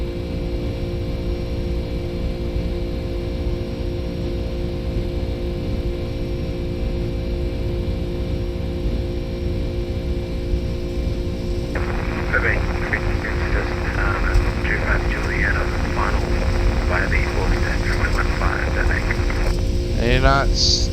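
Flight Factor 757 airliner in X-Plane 12 at KLAX, a steady loud engine hum that builds as thrust advances for takeoff, with higher whining tones rising partway through.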